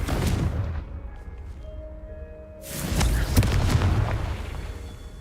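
A Confringo spell explodes in the video game Hogwarts Legacy: a burst of blast noise fades into a quiet spell, then a second louder booming, crackling explosion rumbles on, with faint game tones between.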